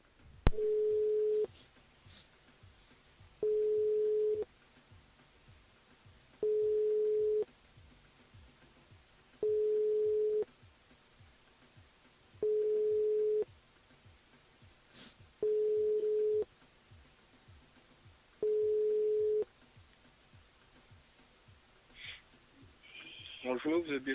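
Seven evenly spaced telephone line tones pulse one after another, each about a second long, while a call goes through to a radio station switchboard. Faint talk and background noise sit underneath, and a voice answers near the end.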